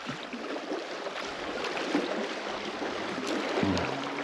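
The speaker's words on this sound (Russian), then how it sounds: "Ходят моторные лодки, иногда мешают" A motorboat engine drones steadily across open water at a fishing spot, with a distant low hum and faint splashing, and no talking.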